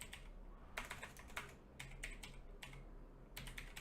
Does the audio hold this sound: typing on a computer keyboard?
yes